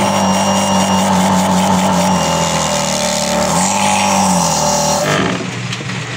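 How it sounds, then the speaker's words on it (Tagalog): A 150 PSI, 23-ampere air compressor runs with a loud, steady motor drone and whine, then cuts out just before the end. "Ano pala itong compressor na to, 150 PSI, 23 amperes."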